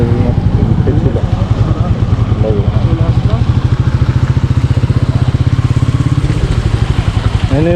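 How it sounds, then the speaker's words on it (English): A Royal Enfield Meteor 350 motorcycle rides off-road, its single-cylinder engine thumping loudly and steadily close by with a low rhythmic pulse, while voices talk over it. "we are still riding on off-road conditions and bike has been impressive enough"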